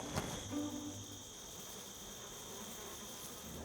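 Bees buzz at a beehive on a meadery's farm, a close, steady insect drone with a thin high whine that holds evenly throughout, with no voices.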